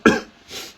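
A single sharp cough from a person with a lingering flu, close and loud, with a softer breathy second burst trailing off after it.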